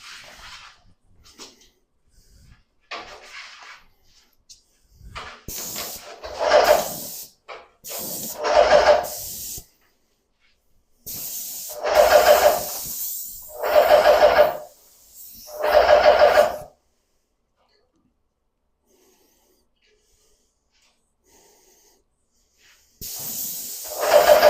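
Spray gun applying coating to cabinet doors, several loud, sustained hissing bursts separated by silent pauses, close to the listener and heard alone.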